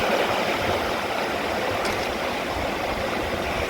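Alaska's Copper River rushes loudly in a steady, dense roar of fast-moving water, close by and unbroken throughout.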